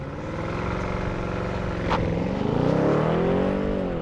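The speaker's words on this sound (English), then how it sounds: "There's that violent launch control we like." Hard launch-control acceleration in a 2020 BMW 750Li xDrive, steady loud drivetrain roar climbing in pitch with a rising tone toward the end, heard from inside the car.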